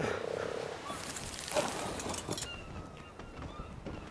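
A frog in the video game ARK: Survival Evolved croaks in a short pulsing burst, followed by quieter croaking and ambient rustle, faint and alone.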